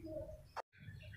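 A pigeon kept at a house coos softly and close, low murmuring tones broken by a brief louder note and a moment of silence, with no voices.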